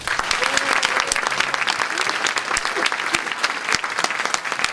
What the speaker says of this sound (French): je voudrais vous demander un applaudissement pour toutes ces personnes-là